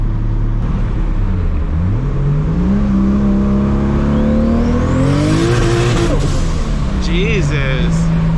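A 1000-horsepower MKIV Supra accelerates hard, its engine pitch rising through the gears with loud, close revving and a brief dip between pulls.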